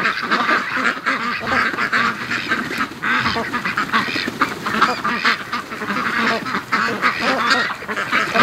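Muscovy ducks call back at a lake after swimming, a loud, busy overlapping chorus of honks, quacks and hisses that goes on without a break.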